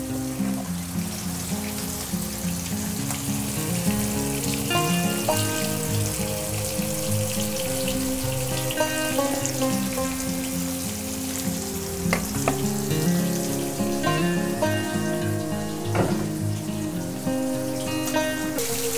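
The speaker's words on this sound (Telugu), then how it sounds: "మీడియం ఫ్లేమ్లో కుక్ చేసుకోవాలి ఫ్రై" Rava-coated fish frying in oil on a medium flame, a constant close crackling sizzle with scattered sharp pops and light spatter, steady throughout with no talk.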